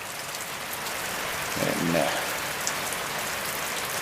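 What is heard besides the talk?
rain falling on surfaces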